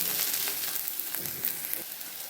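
Coriander sizzles sharply in hot tempering oil for egg bhurji, a bright, crackling hiss with small pops that stays close and steady the whole time.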